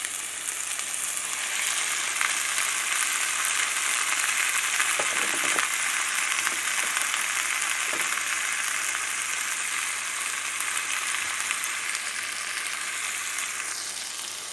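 Frozen green beans, parboiled earlier, sautéing in a pan, giving a steady loud sizzle throughout with a few soft stirring knocks and no voices.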